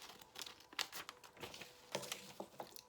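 A small piece of paper crinkles and rustles in the hands, soft close-up crackles and brief tearing-like scrapes in irregular bursts, quiet and alone.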